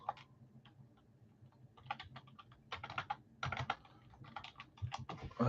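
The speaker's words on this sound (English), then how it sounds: "I hate typing with this thing right in front of my keyboard." Typing on a computer keyboard during a live sports card break, with quick irregular bursts of close key clacks that grow denser and louder toward the end, with no talking.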